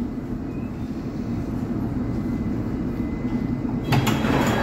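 Inside a London train near Canary Wharf, a steady low rumble of the carriage fills the clip, with a brief brighter clatter near the end that could be the sliding doors shutting; no talk is heard.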